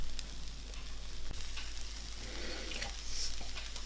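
A pancake made without baking powder fries in a pan, giving a soft, steady sizzle with faint crackles that runs for about four seconds, quiet and without talk.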